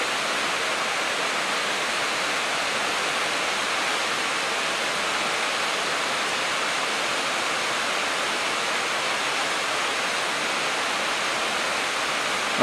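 Small river stream flowing through the largely drained Váh riverbed in Slovakia during cleaning works, a steady broad rushing of water that holds even and close throughout with no voices.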